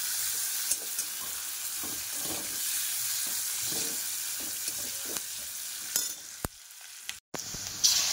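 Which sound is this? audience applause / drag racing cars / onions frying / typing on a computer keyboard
onions frying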